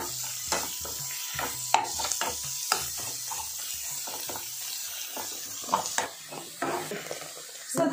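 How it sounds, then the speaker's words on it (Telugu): Grated bottle gourd fries in ghee while a spoon stirs it, with a continuous sizzle beneath repeated rhythmic scraping and clicking strokes against the pan, heard close and without talk. "అంటే పొడి పొడిగా అయ్యే వరకు వేయించుకోవాలి"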